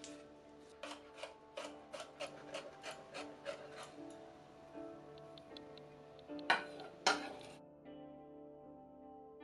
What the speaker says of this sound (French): Hachez la gousse d'ail.